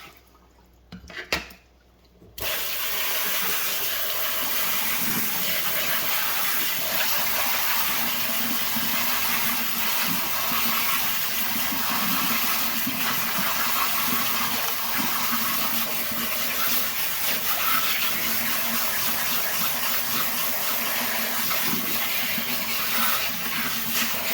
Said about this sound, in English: I'm going to give this thing one squeeze.